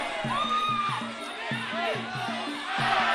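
Ringside crowd at a Thai versus Khmer boxing bout cheers and shouts continuously, with a rhythmic drum beat pulsing underneath and a commentator talking excitedly over the noise.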